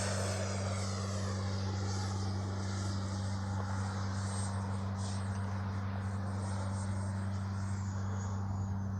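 A FlyFans L-39 radio-controlled model jet in flight gives a steady, continuous turbine-like whine with a constant drone throughout, fairly distant and with no talk.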